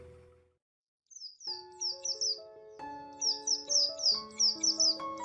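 Birds chirp and twitter repeatedly at dusk, bright rapid calls layered over sustained tonal notes that sound like a soft music bed, fairly close and moderately loud.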